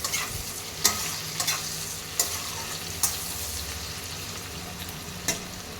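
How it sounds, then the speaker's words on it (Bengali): Sliced onion frying in a pan with a pinch of salt for Bengali rui fish kalia: a close, steady sizzle broken by several sharp scrapes and clacks as it is stirred, with no talking. "পেঁয়াজটা একটু ভাজা হয়ে যাক তখন পেঁয়াজটার মধ্যে একটু সামান্য পরিমাণ নুন দিয়ে দিচ্ছি যাতে পেঁয়াজটা মজে যায়"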